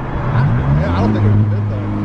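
A Ram TRX pickup truck drives with a deep, throaty engine rumble that swells and holds, loud and close, while voices chatter over it.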